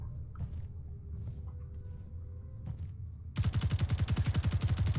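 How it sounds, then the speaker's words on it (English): Rapid automatic rifle fire at a turret in the space sandbox game Space Engineers bursts in after quiet ambient game rumble, a loud, fast, evenly spaced string of shots lasting over a second. "Is that you shooting? Yes, that's me trying to kill a turret."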